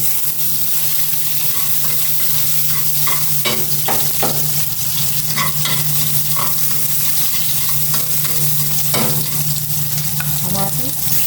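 Onion sizzles in a hot pan while a utensil stirs and scrapes through it, with a steady close frying hiss and repeated clicks of stirring strokes.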